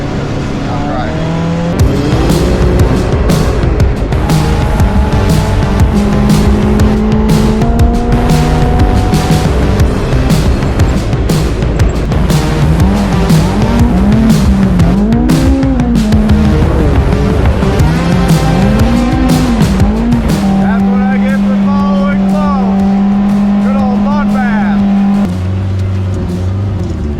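Engine drone of a Can-Am side-by-side driving along an off-road trail, loud and continuous with shifting revs, steady throughout.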